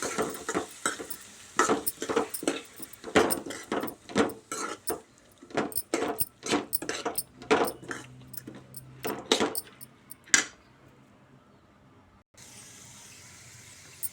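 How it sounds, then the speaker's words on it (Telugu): Moong dal frying with ginger and turmeric in a pan, stirred with a metal spoon that scrapes and clinks against the pan in quick irregular strokes, close and fairly loud, then fades to quiet sizzling. "ఇప్పుడు అల్లం పసుపు వేగింది పప్పు వేసుకుందాం పప్పు మంచిగా ఫ్రై చేసుకోవాలి"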